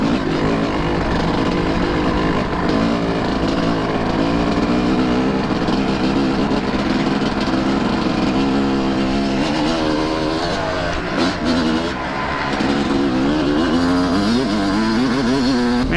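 A Kawasaki KX250 dirt bike fitted with a Rekluse auto clutch rides off-road over rough, overgrown ground, its engine droning loud and close throughout with shifting revs and a brief dip near the end.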